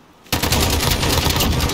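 Rapid automatic gunfire in Call of Duty Modern Warfare erupts abruptly after a short quiet moment, a loud close burst of continuous shots.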